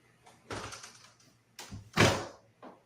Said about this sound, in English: Now pull on the door.